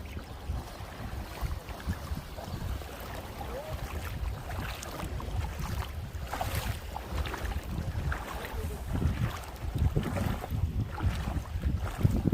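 Strong wind blows at sea during cast net fishing from a boat, a steady low roar with gusty microphone buffeting and faint water sounds underneath.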